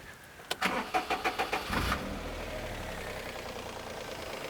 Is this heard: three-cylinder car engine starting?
yes